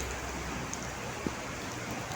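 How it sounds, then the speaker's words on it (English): Heavy rain falls in a constant, close wash of hiss, with one brief louder drop or tap standing out partway through. "So it's heavy rain here."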